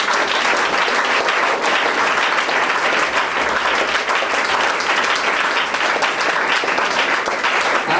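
A church congregation applauds continuously during an evening teaching service, a dense, steady wash of clapping that holds at full level throughout with no speech over it.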